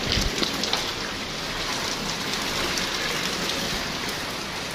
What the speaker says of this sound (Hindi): इतनी तेज़ हो रही है बारिश